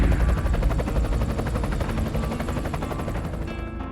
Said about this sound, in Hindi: तेज आवाज के साथ हेलीकॉप्टर वहां आ